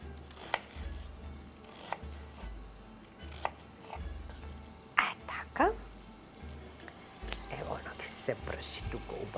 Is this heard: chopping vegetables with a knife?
yes